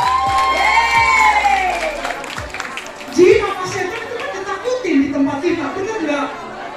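Audience at a stand-up comedy show for Indonesian migrant workers in Hong Kong cheers and claps in a loud, lively burst, with shouts rising over the crowd noise and a performer talking over it.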